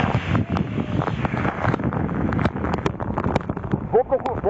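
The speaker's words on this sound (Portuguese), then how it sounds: "por conta do forte vento, são rajadas de vento" Strong gusting wind during a storm with flooded streets in Porto Alegre buffets the microphone in rough surging roars, with scattered clatter and a voice speaking over it near the end.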